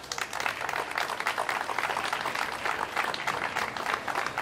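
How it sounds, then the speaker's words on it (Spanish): A crowd at the outdoor unveiling of a Rosalía de Castro monument in Chapela gives loud, sustained applause, dense clapping holding steady throughout with no speech over it. "que lle pido un forte aplauso por acompañarnos hoxe"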